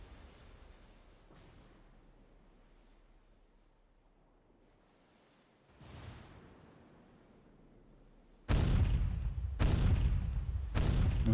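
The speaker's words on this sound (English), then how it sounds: "Let's just bombard her like this. Not doing a full salvo, just doing a, let's say a ripple fire." Heavy battleship guns in the naval combat game NavalArt ripple-fire: a lone boom near the middle, then three or four loud, closely spaced blasts in quick succession near the end, each with a rumbling tail and no talk.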